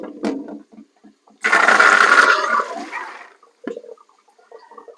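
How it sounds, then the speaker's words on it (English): Tap water gushes for about two seconds over dry beans in a colander, a loud splashing rush that tapers off, framed by short clatters of handling the beans before and after. "And we are going to give them a good rinse."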